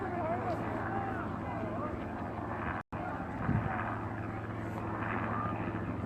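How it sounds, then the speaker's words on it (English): A steady low helicopter rotor drone hangs overhead at a bridge protest at Standing Rock, continuous and moderately loud, with faint voices mixed into the background. "being videoed above right now by a helicopter"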